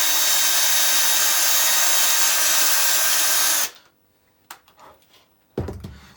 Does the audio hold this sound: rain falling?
no